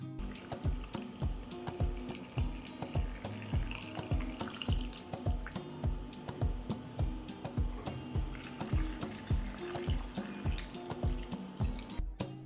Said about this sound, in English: Filling a jar with water.